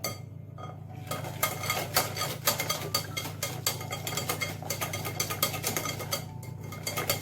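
A utensil clinks and scrapes steadily around a bowl while a flan pâtissier mixture with vanilla seeds is stirred, giving a close, even rhythm of small metallic taps over a low background hum.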